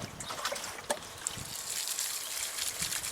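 Water poured from a can or hose onto soil around a newly planted pumpkin on an allotment, a steady close trickle and splash lasting throughout with no talk.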